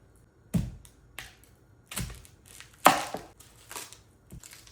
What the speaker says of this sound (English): Next up, we're gonna cut an onion.